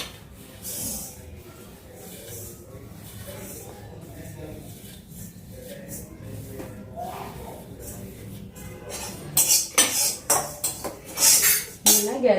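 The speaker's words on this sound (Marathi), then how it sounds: "आणि आता ओवा ओवा पण भाजून घ्यायचा आहे" Ajwain (carom seeds) roasting in a kadhai, with faint rustling and scraping as the seeds are moved around the pan, then louder clinks and scrapes of a utensil against the metal toward the end, with a voice talking quietly in the background.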